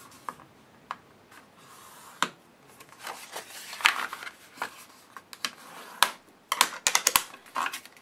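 A Score Buddy board scores a sheet of card stock for a washi tape craft, giving sparse sharp ticks and clicks, then a quicker cluster of snaps near the end, close and fairly quiet, without speech.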